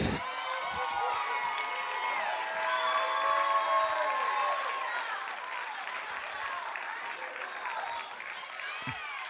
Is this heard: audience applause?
yes